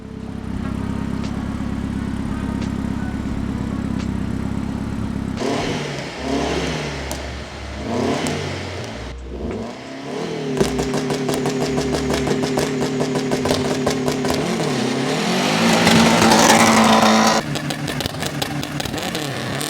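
A Lancia Delta Integrale engine cranks, catches and idles, then blips through several sharp revs, with the pitch rising and falling in bursts before it settles into a steady, loud run near the microphone.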